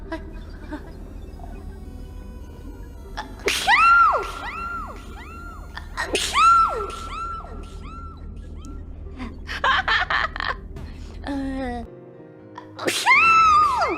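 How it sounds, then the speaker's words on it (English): Repeated sneezes come in bursts, several loud close sneezes with gasping breaths between them and a brief pause before a final sneeze. "I'm sneezing a lot today."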